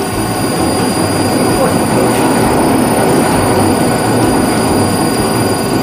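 Main screw motor of a snack extruder machine making chiki puffs, a loud continuous industrial roar with steady high whine tones, running without pause while people talk over it.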